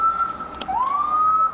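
An ambulance siren at a roadside police stop wails in a steady, fairly close tone, dipping briefly and sliding back up as it arrives. No one speaks over it.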